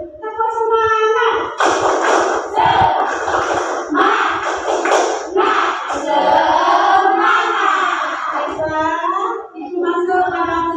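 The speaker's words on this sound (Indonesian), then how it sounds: "coba kita tepuk semangatnya dulu. Tepuk semangat." A school class performs a rhythmic spirit clap in unison, close and loud, with children's voices chanting along between the claps.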